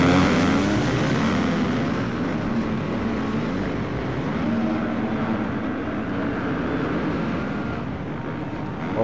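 A pack of supercross motorcycles in the video game Monster Energy Supercross roars off the start in a dense, continuous engine drone that stays loud and steady throughout, with no talk.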